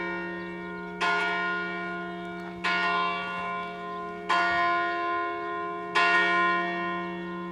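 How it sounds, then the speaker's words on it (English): Church tower bells in Sauris, a town in the Italian Alps, toll four evenly spaced strokes about one and a half seconds apart, each ringing out loud and bright with a long, humming decay and no voices. "tower bells of the churches back in the days when people didn't really have watches yet"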